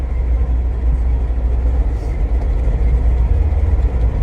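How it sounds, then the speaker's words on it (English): Wind buffeting through an open car window while driving in Chicago, a loud, constant rumbling roar with heavy low-end turbulence throughout, no voices over it. "Sorry about the wind noise."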